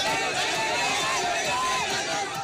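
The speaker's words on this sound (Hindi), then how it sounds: "जुमे की नमाज की भीड़ सड़कों पर आ गई।" Friday prayer crowd protesting on the streets of Ahmedabad, a dense continuous roar of many voices shouting and chanting together, loud and close throughout with no pauses.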